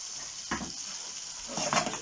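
Pasta tossed in a pan of garlic and chili oil: a continuous low sizzle with two soft bursts of scraping and shuffling as the pan is shaken, close and fairly quiet, no talking.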